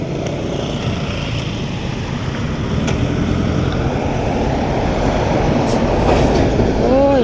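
A train or rail vehicle rumbles past in a steady, loud low roar lasting several seconds, with faint clattering and a brief high squeal near the end, heard without any talk.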